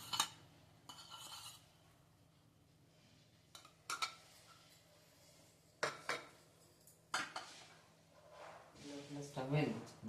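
A spoon mixes chili powder into beaten omelette eggs in a bowl, with sparse sharp clinks and scrapes against the bowl spaced through quiet stretches while a person talks.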